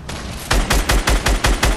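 Rapid gunfire in Fortnite: after a brief lull, seven or eight loud, close shots ring out in an even burst with no talking.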